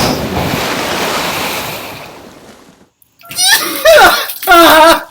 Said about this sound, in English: Ready, set, splash!